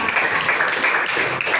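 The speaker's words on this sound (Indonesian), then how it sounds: "tepuk tangan." A classroom of students claps together in a brief, dense burst of applause that stays steady and fairly close throughout.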